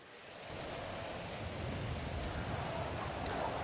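Rainy weather in the video game GTA 5 makes a steady, dense hiss of falling rain that swells slightly louder toward the end, with no voices.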